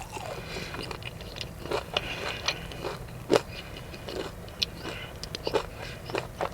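Crunchy bites into Wingstop crispy chicken tenders, a series of sharp crackling chews spread irregularly over several seconds, close to the mic above a low steady background hum.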